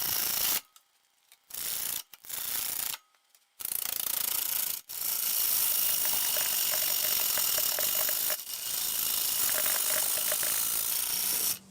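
Chattering, rattling cuts come from a lathe turning an out-of-balance piece. They start in short bursts with silent gaps, then run on as a continuous, close mechanical grind with a faint ticking rhythm.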